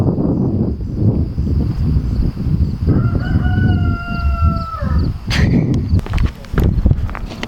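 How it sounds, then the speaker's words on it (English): Roosters crow outdoors on a city street, a rising, held call standing out around the middle against a steady roar of traffic and engines, followed by sharper bursts of noise. "There's roosters, listen."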